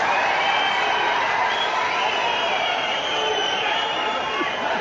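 A large rally crowd in Jammu applauds and cheers to welcome Prime Minister Narendra Modi, a dense continuous roar of clapping and voices that holds loud throughout.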